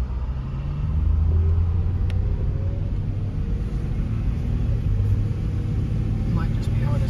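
A 1999 VW Eurovan VR6 with soft brakes drives along the road, its engine and road noise forming a steady low rumble throughout, with people talking over it inside the van.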